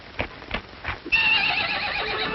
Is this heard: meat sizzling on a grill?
no